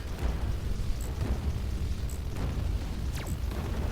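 Booming missile launches and blasts from the space combat game Fractured Space, a dense, continuous rumble with a few sharp streaking whooshes and high pings over it, no talk.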